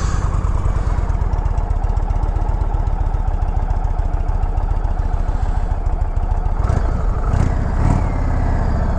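A 2021 Indian Chief Dark Horse motorcycle idles close by with a steady, loping rumble and rapid even firing pulses, then gets a few short throttle blips near the end.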